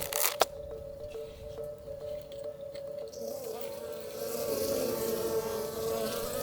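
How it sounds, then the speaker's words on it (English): Honey bees released from hives relocated to a new site, a faint steady buzzing with one sharp knock near the start, the hum growing denser and busier toward the end. "I guess it's time to let them out."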